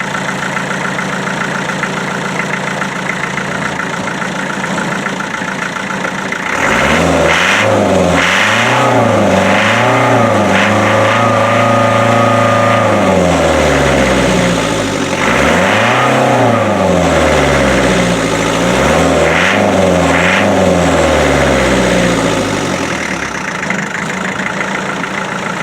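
A Land Rover Defender 90 with a 2.5 naturally aspirated diesel engine idles, then from about seven seconds is revved repeatedly in loud rising and falling surges before settling back to a steady idle, heard close with no talking.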